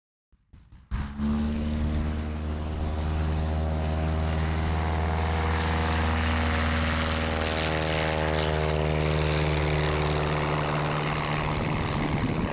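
A propeller airplane flies in to land at a live competition event in Arkansas, its engine drone rising from silence into a loud, steady, close roar with a strong low hum that holds throughout.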